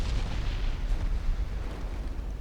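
Heavy naval gunfire from a video game sea battle, with 16-inch battleship guns and the cruiser Riga trading shots, sounding as a dense, continuous low rumble of booming fire throughout without distinct separate blasts.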